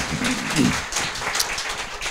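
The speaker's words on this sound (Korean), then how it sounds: "저분에게 박수를 좀" Audience applause at a live political talk show event, a dense wash of many hands clapping at once, with a voice briefly mixed in near the start.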